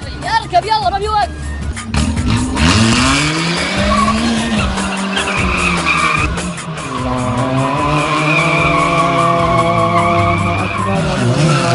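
Car tires screech loudly and continuously as a vehicle drifts, the squeal rising and falling over a revving engine, with people talking and music playing underneath.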